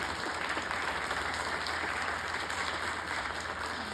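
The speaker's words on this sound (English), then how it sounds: "I think everybody needs to applaud all four of these candidates" An audience at a school district meet-the-candidates night claps steadily for four candidates, a broad even wash of many hands with a constant hum underneath.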